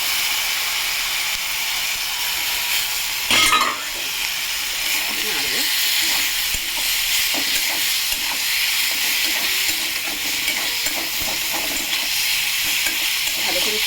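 Masala being stir-fried with a hilsa fish head gives a loud, continuous close sizzle with scraping spoon strokes and a brief clatter partway through.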